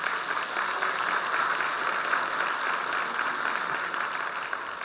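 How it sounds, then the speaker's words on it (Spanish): A church congregation applauds steadily, a continuous wash of many hands clapping at even loudness with no pauses. "Le damos un aplauso al Señor"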